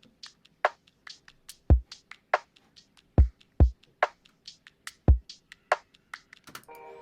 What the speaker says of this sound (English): So the drums on their own sound like this.